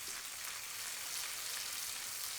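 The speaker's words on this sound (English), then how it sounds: "This is sizzling away" Brown butter with Aleppo chile sizzling in a pan for Turkish eggs: a soft, even crackle and hiss, continuous and close without pauses.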